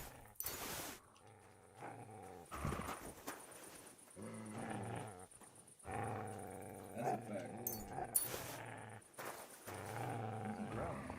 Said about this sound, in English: He's growling.